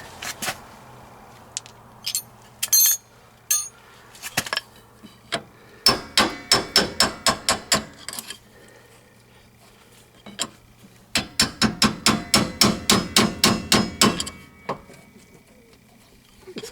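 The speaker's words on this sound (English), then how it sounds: "It's best to tap on the end of the bolt there." Brass hammer tapping on the end of a bolt during an AWD rear wheel bearing job: scattered single taps, then two fast bursts of about a dozen sharp metallic strikes in a quick, even rhythm.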